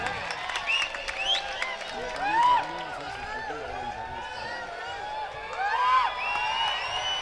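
Audience at an Indian mushaira poetry gathering claps in a sustained, dense burst of applause with cheers and whistles rising twice, voices mixed into the crowd noise.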